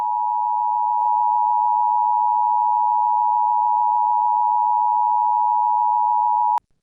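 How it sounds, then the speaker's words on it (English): A steady, unbroken electronic alert tone, loud and close, drones on one pitch for about six and a half seconds before cutting off abruptly, with no voices. "Was it the scary beeps?"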